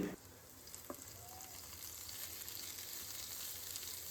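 Chopped carrot and cabbage sauté over a high flame for restaurant-style chicken noodles, a steady close sizzle with a brief stir near the start and no talking.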